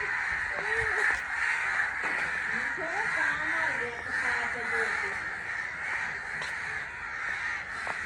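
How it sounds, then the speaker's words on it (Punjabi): A large flock of crows caws repeatedly over a village house rooftop, overlapping calls near and far with some faint human voices beneath. "ਇੰਨੇ ਕਾਂ ਇੰਨੇ ਕਾਂ ਪਤਾ ਨਹੀਂ ਕਦੋਂ ਇਕੱਠੇ ਹੋ ਗਏ ਆ"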